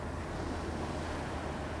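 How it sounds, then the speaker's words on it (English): Ferocious ocean waves crash onto a jagged, boulder-strewn beach in a cove at night, a steady roaring surf wash with low rumble and wind, continuous and full with no voices. "Ferocious waves crash onto a jagged beach strewn with boulders."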